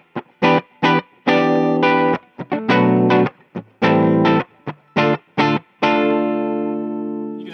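Distorted electric guitar from a 1998 Gibson Les Paul Mastertone Mickey Baker Signature with neck, middle and bridge pickups blended, loud choppy chords and riffs ending on a long sustained ringing chord, no talking.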